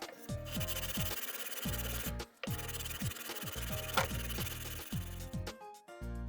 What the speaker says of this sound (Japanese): 凸になっている部分を、ヤスリで削ることにしました。